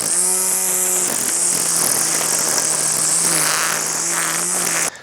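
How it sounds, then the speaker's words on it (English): A Husqvarna 320iL cordless string trimmer cuts through thick grass in standard mode, giving a loud, steady high-pitched electric whine with a constant motor hum that runs throughout, then cuts off abruptly at the end. "So even though this grass is really thick, it's actually cutting it well"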